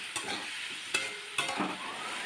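Fried taro and potato with turmeric, split green chillies and cumin water stir-fry in a pan, a soft sizzle broken by three sharp scrapes or knocks of a spatula, close and quiet with no talking.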